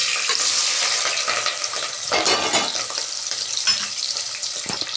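Chopped onions and green chillies fry in hot oil with a loud, continuous sizzle and crackle, stirred now and then, up close and alone throughout.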